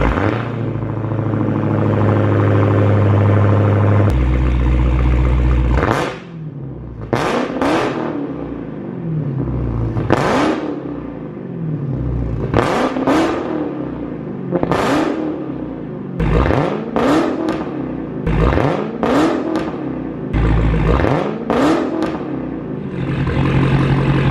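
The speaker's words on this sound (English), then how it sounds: "Let's start up the car, make sure that we don't get any check engine lights" A Dodge Hellcat fitted with a new exhaust cranks and fires with a loud roar. It settles into a rumbling idle, then gives a string of sharp, loud revs, about ten bursts spaced a second or two apart, with no talking.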